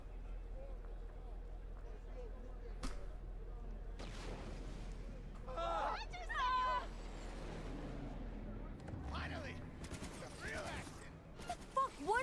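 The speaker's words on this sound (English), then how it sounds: "Am I about to hear gunshots?" Gunfire in the video game Cyberpunk 2077, with scattered bursts and sharp cracks over a steady low game hum, the shots growing busier toward the end, while a voice talks throughout.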